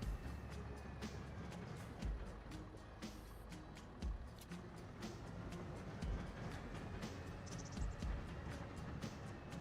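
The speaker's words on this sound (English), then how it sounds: "That's a rattling trailer, ain't it?" Farm trailer in Farming Simulator 25 rattling steadily over a low rolling drone, with repeated sharp clanks and knocks every second or two, close and continuous.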